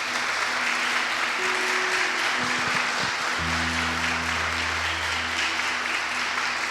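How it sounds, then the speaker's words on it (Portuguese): A church congregation applauds for Jesus Christ in continuous, dense clapping that stays loud and even across the whole stretch, with a sustained organ-like tone entering partway through. "Irmãos, dá uma salva de palmas para Jesus Cristo."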